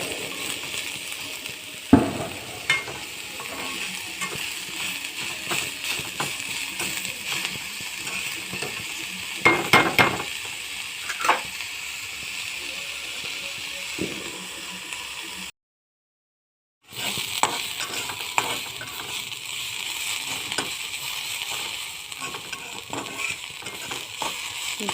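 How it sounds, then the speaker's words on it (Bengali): Onion frying lightly in a pan for a dried-fish mash, a steady soft sizzle with scattered clinks and scrapes of stirring, briefly cut to silence midway. "খুব বেশি ভাজার প্রয়োজন নেই, হালকা করে ভেজে নেব পেঁয়াজটাকে।"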